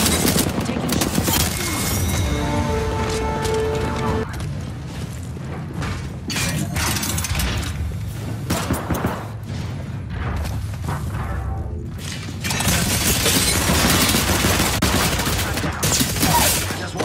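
Devotion machine gun firing in a first-person shooter: sustained loud automatic fire that rolls on almost continuously, with mechanical clatter, impacts and other game noise layered through it.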